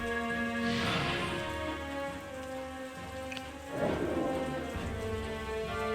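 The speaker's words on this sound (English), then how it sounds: "the sudden heavy rain is going to make the muddy terrain ahead very difficult to pass" Heavy rain in the strategy game Banner of the Maid, a steady hiss with low rolling thunder swells near the start and again near the end, continuous at moderate loudness with no voices.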